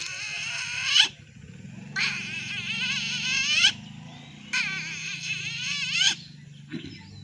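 A man imitates a snake catching a frog with his voice, producing four loud, warbling, squealing cries separated by short pauses over a low hum, ending with a brief softer yelp.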